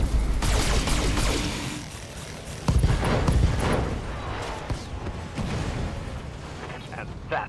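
Heavy mech weapons firing in the video game BattleTech, a loud barrage of booming cannon blasts and rapid impacts in overlapping bursts, with a sharp new volley partway through and rumbling explosions trailing off.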